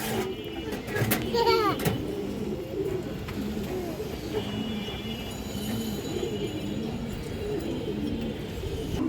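A black Musalman pigeon pair coos repeatedly in low, rolling phrases nearby, with a few sharp knocks early on and faint background noise throughout.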